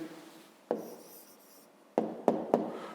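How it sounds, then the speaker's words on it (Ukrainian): A pen scratches out an answer on paper in short strokes: a brief scratch, a pause, then three quick, close, distinct strokes near the end, with no talking. "Записуємо відповідь."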